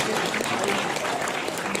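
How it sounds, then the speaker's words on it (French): An audience at a seniors' afternoon gathering applauds the performing artists: a brief, dense wash of steady clapping from a crowd, fairly close, with no clear speech. "On peut applaudir les artistes"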